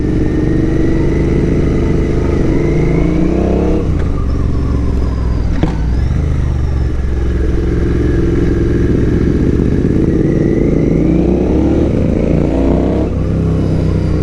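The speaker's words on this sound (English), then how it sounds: "you probably notice my exhaust is a little bit louder than what it used to" A Royal Enfield motorcycle engine with its exhaust baffle removed runs loud and throaty with a deep, raw exhaust note, revving up and easing off in waves over a steady rumble.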